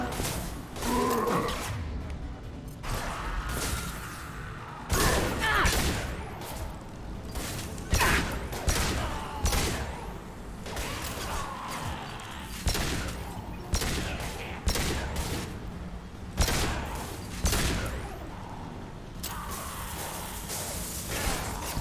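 Pistol shots and combat clatter from a Mass Effect 2 firefight arrive in repeated sharp bursts every few seconds, loud and punchy, with occasional effects and short voice lines.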